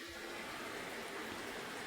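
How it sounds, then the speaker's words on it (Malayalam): Steady rain hisses softly and evenly, a continuous faint wash of sound with no voices. "പുറത്ത് നല്ല മഴയാണ്"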